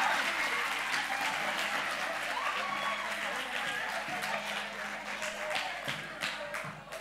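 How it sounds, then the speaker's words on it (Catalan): An audience at the Catosfera 2023 event claps warmly and steadily, a dense patter of many hands that slowly thins, with some voices mixed in. "Un aplaudiment per ells"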